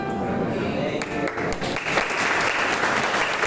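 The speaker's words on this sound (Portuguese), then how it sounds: "Aplauda o Senhor pela vida da Malu" A church congregation claps in praise during a children's-month service, dense clapping with a few sharp individual claps standing out, and some voices underneath.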